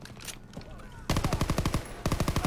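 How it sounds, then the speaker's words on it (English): A PPSh submachine gun fires in rapid bursts in the World War II video game Call of Duty: WW2, with fast, loud, close cracks coming in two bursts after a quieter opening of background battle noise. "The sound of the PPSH is so nice."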